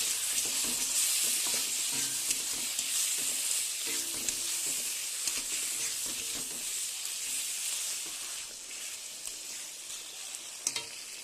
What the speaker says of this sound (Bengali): চিংড়ি মাছটা দিয়ে দিয়েছি, এই মশলার সঙ্গে কষিয়ে নেব।